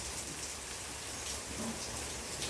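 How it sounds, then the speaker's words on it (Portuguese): Steady rain falls outdoors among plants in a continuous soft hiss of drops on surfaces, quiet and even with no voices. "numa experiência de chuva aqui, então vai ficar um pouquinho, né, com o som de chuva"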